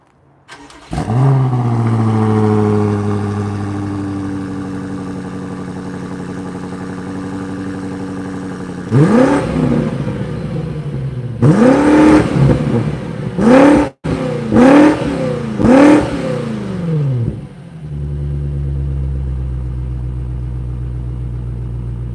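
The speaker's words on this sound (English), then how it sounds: "let me now rev it so you can hear what that V8 sounds like" A 2020 BMW X5 M Competition V8 engine idles steadily in Sport Plus mode, then revs sharply in a burst of four or five loud throttle blips before settling back to a deep idle.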